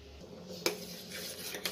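A metal lid set onto a pot of boiling macaroni pasta, giving a quiet clink at contact followed by a second lighter knock against the rim, over soft background noise.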